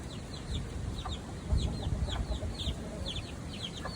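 Many faint high chick peeps repeating rapidly over low soft clucking from a Brahma rooster, steady background noise throughout.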